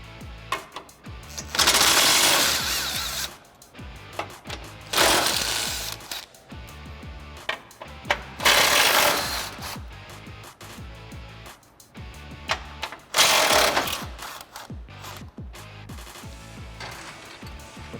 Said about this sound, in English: You're going to use a 21mm socket to get those out.